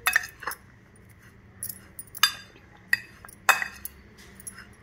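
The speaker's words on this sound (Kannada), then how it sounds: "ಇದನ್ನು ನಿಧಾನವಾಗಿ ಹೀಗೆ ಕಲಿಸ್ಕೊಂಡ್ಬಿಡಿ, ಎಲ್ಲ ಮಿಕ್ಸ್ ಆಗೋ ಹಾಗೆ ಕಲಿಸ್ತಾಯಿದ್ದೀನಿ" A metal spoon clinks against the side of a dish while chilli and turmeric powder are stirred into a homemade pickle, giving irregular sharp taps and scrapes up close with quiet pauses between them.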